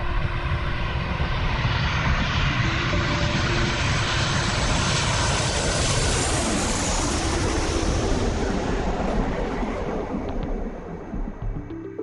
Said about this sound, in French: L'avion s'élève dans le ciel éclairé par la lune